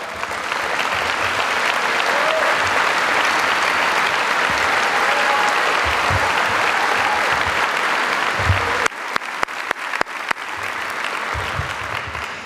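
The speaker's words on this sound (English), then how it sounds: "would you please stand and face the audience for a round of applause?" Sustained applause from a large audience at a 2012 high school graduation ceremony as honor students with high GPAs stand, a dense steady roar of clapping for several seconds that thins toward the end.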